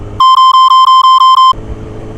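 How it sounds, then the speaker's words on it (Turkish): A censor bleep covers a swear word in a motorcycle traffic vlog: a loud, steady electronic tone that pulses quickly for about a second and a half and cuts abruptly over the road and engine noise, which then resumes. "az önce küfürü bipleyeceğim"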